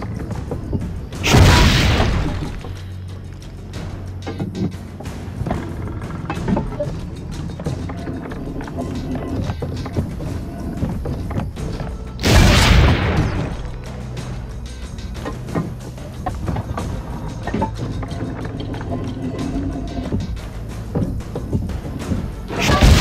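A cannon fires in the Assassin's Creed: Brotherhood video game, two heavy booms about ten seconds apart over a low rumbling game soundscape with mechanical clanks and thumps.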